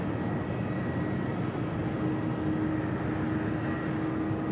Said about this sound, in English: China Eastern 736, the A350 now departed Sydney Airport, taking off the air.